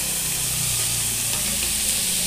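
Ridge gourd frying in a small-fish shukto gives a loud, dense, steady sizzle and hiss close up, with faint soft stirring movement underneath.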